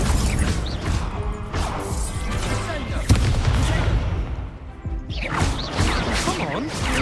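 Incendio fire spell impacts in Hogwarts Legacy, a dense mix of crackling, whooshing bursts and crashing hits with a sharp strike near the middle, loud and busy, with game voices mixed in.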